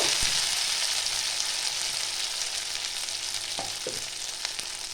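Ginger sizzles in hot oil for a Bengali vegetable chop, a steady, loud hissing fry heard close up with a few soft stirring clicks and no talk.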